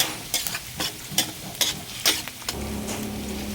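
Ginger and garlic sautéed in a pan: a spatula scrapes and stirs in quick rhythmic strokes, then a steady sizzle takes over as stirring stops; close and clear, with no talk.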